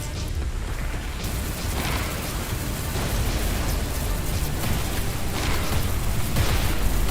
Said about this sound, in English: Torpedoes incoming. Oh, more torpedoes.